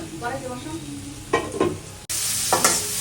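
Onions drop into hot oil in a pan for pangas fish curry and burst into a loud, sudden sizzle that continues steadily. Voices speak quietly before it starts.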